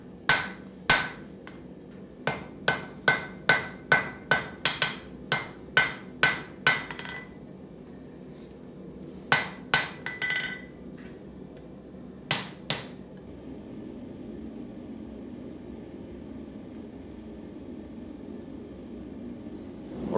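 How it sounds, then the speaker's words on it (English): Hammer blows on hot steel while thinning the lap of a folded axe preform at the forge, a steady run of sharp, ringing strikes followed by a pause and a few more isolated hits over a constant background hum. "the final step in the preform is to thin out the end of the little lap"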